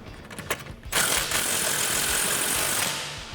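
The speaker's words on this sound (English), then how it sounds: "I'm going to take the gun and run it in the rest of the way" 3/8 impact gun spinning a 15 mm socket on a Dodge Challenger lowering spring install, a few faint clicks followed by a sustained close, buzzing whir lasting about two seconds before trailing off.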